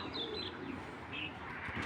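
Racing pigeons coo softly in a loft, with low murmuring calls and faint chirps over a quiet background hum.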